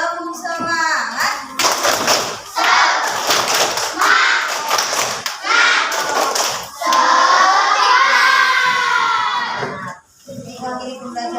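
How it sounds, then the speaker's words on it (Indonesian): A classroom "tepuk semangat" chant, with bursts of rhythmic group hand clapping alternating with children's chanting voices, loud and close. "Siap? Tepuk semangat."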